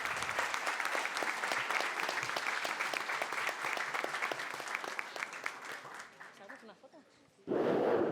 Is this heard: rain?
no